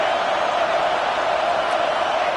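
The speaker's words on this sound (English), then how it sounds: "It's early, but this crowd is fired up. Listen to this noise here." A college football stadium crowd at a Michigan versus Texas A&M game roars in a dense, continuous wall of cheering and noise, loud and unbroken.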